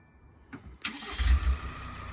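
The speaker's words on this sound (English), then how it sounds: "We can remote start the van on this one." A Ford Transit Custom van engine, remote started, starts with a short crank and clicks, then catches into a low rumbling idle, heard from nearby and alone.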